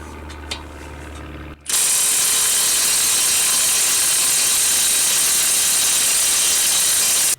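Milwaukee M18 Fuel impact wrench with a 17mm short socket hammering on a stuck brake caliper bolt, a sudden loud continuous rattling impact burst that starts after a quiet second and runs steadily for about six seconds before cutting off.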